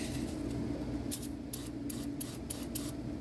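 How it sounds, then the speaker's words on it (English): CRC electric parts cleaner is sprayed onto a semi trailer's 7-way connector in a series of short, sharp hissing bursts in the second half, about six quick squirts over a low background hum. "I'm going to go ahead and spray it down with some electric parts cleaner from CRC."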